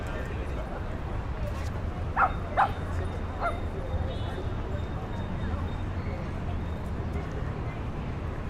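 A small pocket dog on a busy Manhattan street gives a few quick high yips, two or three close together early on, over steady city noise and passing chatter.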